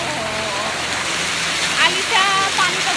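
Steady broadband rush of a waterfall fills the scene evenly, with a voice speaking over it briefly.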